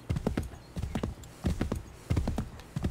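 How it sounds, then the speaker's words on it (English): Horse hooves clip-clop in Assassin's Creed 3 gameplay, a steady walking gait of grouped hoofbeats in clusters of three or four, fairly close and clear, with no talk over them. "Picked up a horse on my way."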